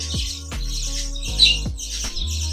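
Budgerigar chicks in a cage give repeated close, loud chirps, about four or five sharp calls in quick succession with a rough, squawky edge.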